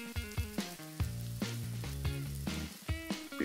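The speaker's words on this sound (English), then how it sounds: "Once the onions have achieved their full potential, I stir in the thyme and saute for another minute" Onions and thyme sautéing in a pan give a soft sizzle broken by a run of stirring knocks and scrapes, close and fairly quiet, with no voices.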